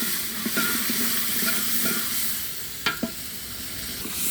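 Potatoes fry in a pan under a steady close hiss and sizzle, with a few light scraping knocks from stirring scattered through, no voices.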